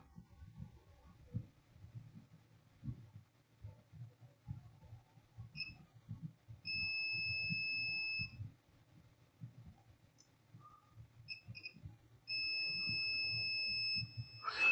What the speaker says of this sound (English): You can see the beeping of the multimeter.